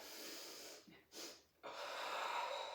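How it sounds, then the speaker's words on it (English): A deep breath drawn in, followed by a short sniff for extra air during a breathing exercise, close and quiet, with brief pauses between the inhalations and no talking. "deep breath in and then a sniff to just increase that lung capacity"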